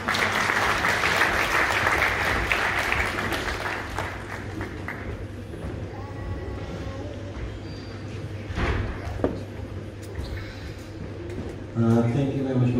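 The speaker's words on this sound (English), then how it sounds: "So please, gentlemen, a big round of applause for Mr. Usher directly." A graduation ceremony audience gives sustained applause, dense and steady at first and gradually thinning, before a speaker's voice comes in near the end.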